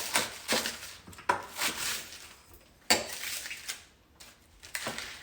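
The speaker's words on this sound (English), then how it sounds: "We'll just keep going, keep chopping." Knife chopping romaine lettuce on a cutting board during kitchen food prep, a series of irregular crisp close chops and knocks with brief pauses, no voices.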